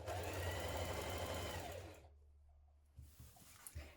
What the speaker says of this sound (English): Now sew through all those layers along that top edge.